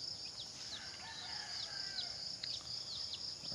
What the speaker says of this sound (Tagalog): meron tayong mga manok